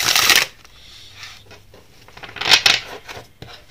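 Tarot deck shuffled for a card reading, giving two close, crisp riffling bursts of cards separated by quieter handling and soft rustles.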